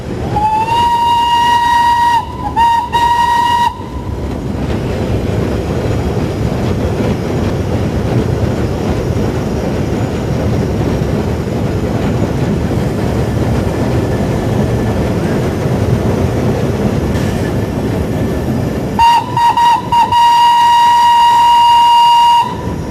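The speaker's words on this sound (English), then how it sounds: "The driver makes gentle applications of the vacuum brakes to hold the speed as the train now rolls down gradients of 1 in 60 towards Levisham." A steam train on the North Yorkshire Moors Railway rolls down a steep gradient toward Levisham under gentle vacuum brake applications, a steady close rumble of wheels and running gear framed by loud steam whistle blasts at the start and end.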